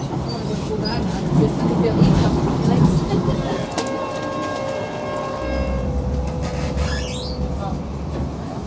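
A Sheffield Supertram rumbles along the track toward Sheffield Station, a steady low ride noise with a sustained tonal whine and a few clanks, as a voice talks over it from inside the car.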